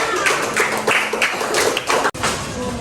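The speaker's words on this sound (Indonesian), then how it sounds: "Tepuk tangan semuanya." A classroom audience claps steadily after a student presentation, a dense patter of many hands, close and continuous with a brief break near the end.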